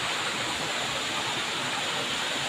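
A shallow stream of clear water flows steadily nearby, a constant close hiss and burble of running water with no break and no voices.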